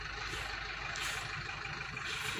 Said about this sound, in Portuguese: Aqui tá passando um caminhão. Aqui onde eu moro, caminhão não, né? Ônibus escolar.